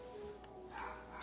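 A dog barks briefly and faintly in the background of an indoor room during a French-language makeup session, a few short yaps over steady room noise.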